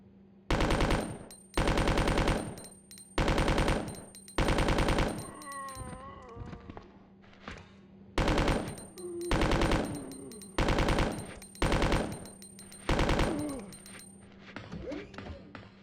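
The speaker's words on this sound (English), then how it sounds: "let's go make some valuable use of this machine gun" Full-auto machine gun in Resident Evil 2, fired in about eight loud, sustained bursts of a second or so each with short gaps between, mixed with creature cries and shrill game noises, and a person talking over it.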